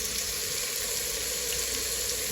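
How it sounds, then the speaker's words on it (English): Beef short ribs searing in a very hot pan, a steady, dense sizzle that stays loud and even throughout, with no pauses and no one speaking. "we're gonna go ahead and sear our short ribs"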